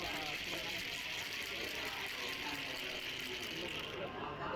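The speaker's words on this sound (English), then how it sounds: "Then shake all the ingredients properly." Mocktail ingredients, including lime wedges and strawberry crush, shaken hard with ice in a cocktail shaker, giving a steady, dense rattling wash that runs without pause from start to finish.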